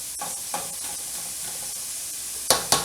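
Onions sautéing in a soup pot for smoked sausage, greens and white bean soup, a steady soft sizzle with occasional stirring scrapes and two sharp clanks near the end.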